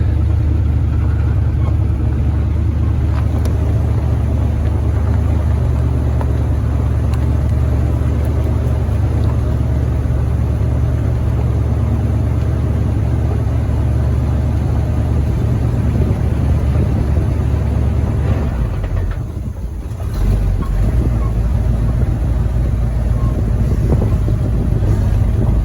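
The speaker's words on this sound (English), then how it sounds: "Now let's see if we can't idle this thing down the road here." A 1979 Chevy engine idles while the vehicle rolls down the road, making a loud, continuous low rumble that holds steady, with a brief dip near the end.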